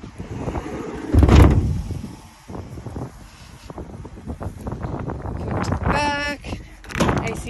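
The rear cargo door of a 2015 Dodge ProMaster van is slammed shut with a single heavy, close metallic thump early on. Wind noise and a talking voice follow the slam.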